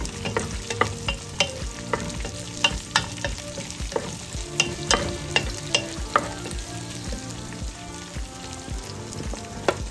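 Onions sizzle and get stirred in a hot pan for chicken hakka noodles, with steady frying and repeated sharp scraping clicks of the spatula against the pan, close and loud with no voices.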